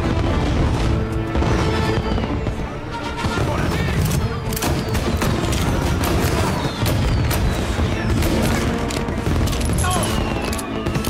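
Shooting in the video game Mafia: Definitive Edition, set in the chapter Feliz Cumpleaños, produces loud, dense gunfire with overlapping shots and booming impacts in a continuous barrage.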